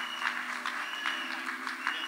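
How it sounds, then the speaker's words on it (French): A wedding congregation at a church service breaks into steady, dense applause, the clapping continuous and fairly close throughout the short moment. "Acclamons le Seigneur."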